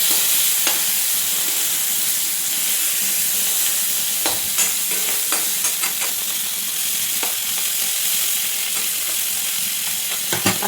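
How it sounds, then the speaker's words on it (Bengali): A small puti fish fries in hot oil, giving a continuous close sizzle and spatter broken by soft crackles and occasional sharper pops, with no talking. "একটা ছোটো পুঁটি মাছও আছে। গরম গরম ভাজবো"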